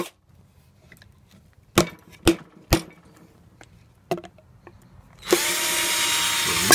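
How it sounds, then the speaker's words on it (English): A power drill whirs up steadily near the end, after several sharp knocks and taps against a quiet background. "So you just drill a bunch of holes, as many as you can fit in there"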